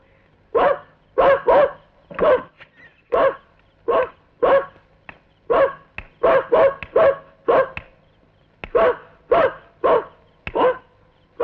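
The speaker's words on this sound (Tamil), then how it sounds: "அதான் மணி கொலைச்சிருக்கு" A dog barks repeatedly in a Tamil film scene, a long run of sharp, loud, close barks in irregular bursts with short gaps, with no talk over them.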